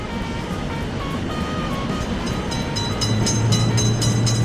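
Railway cars thunder steadily past a road level crossing, a near, unbroken rolling roar with light rhythmic clatter that grows slightly stronger in the second half.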